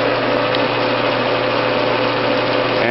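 A permanent magnet generator on a wind turbine spins freely with no load, giving a steady, loud mechanical whine and hum that holds constant before shifting slightly near the end, with no voices.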